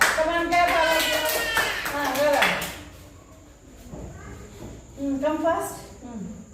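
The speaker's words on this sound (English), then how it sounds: "Come on, clap all of you." Schoolchildren clap together in a classroom during a sounds lesson, short bursts of group clapping between a teacher's spoken prompts, with children's voices chanting along.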